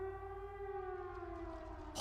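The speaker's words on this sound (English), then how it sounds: "Is that a siren?" A steady siren wails with layered tones gliding slowly downward in Trails of Cold Steel, holding for two seconds before a brief burst of sound cuts in at the end.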